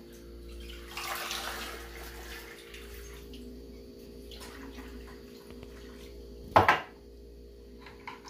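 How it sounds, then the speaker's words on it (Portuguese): Cornmeal for polenta is stirred in cold water in a pot, giving soft sloshing and swishing water sounds with a brief clattering knock of a utensil near the end, close up and without talk. "Mexendo assim na água fria, ele desempelota"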